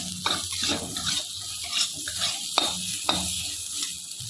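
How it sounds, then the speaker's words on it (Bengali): Mango pieces, turmeric powder and tomato fry lightly in a pan, sizzling steadily while a utensil stirs and scrapes in sharp intermittent clicks, close and fairly loud. "আম দিয়ে দিয়ে দিচ্ছি অল্প করে হলুদের গুঁড়ো তো টমাটো দেবো দিয়ে একটু হালকা করে ভেজে নিচ্ছি"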